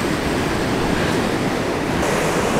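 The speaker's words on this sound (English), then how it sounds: "the waves are doing really wavy things" Steady ocean surf washes onto a beach near Trinidad, California, a continuous broad roar with some wind buffeting the microphone and no voices.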